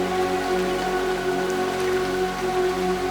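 Steady June rain patters on surfaces, an even close-up hiss of drops with no pauses and no voices.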